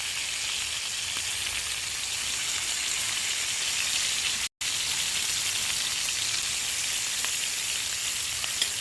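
Pork chops frying in a cast iron skillet give a steady, close, dense sizzle like rain on a hot surface, unbroken apart from one brief cut near the middle.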